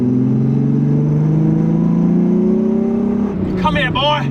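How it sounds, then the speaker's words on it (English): A Honda car with a loud exhaust gives a steady, droning engine tone that rises gradually in pitch as it pulls away, close and loud, before a voice cuts in over it near the end. "Oh, we got a loud exhaust."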